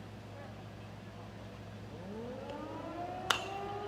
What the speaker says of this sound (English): right when the 11:01 siren goes off mid-pitch and it's fouled off